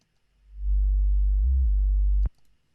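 A sub-bass tone from an electronic music mixdown plays alone: one deep, smooth, steady note that swells in, bends briefly upward in pitch midway, then cuts off abruptly, leaving a faint tail.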